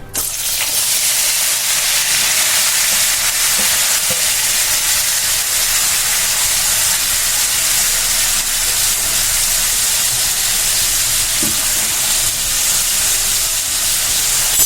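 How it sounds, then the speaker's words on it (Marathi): Cut green tomatoes frying in hot oil, a loud continuous sizzle and hiss that holds steady and close throughout, with no voices. "तर आता आपलं तेल तापलं आहे। आपण जे टमाटे कट करून घेतले ते यात घालून घेऊया।"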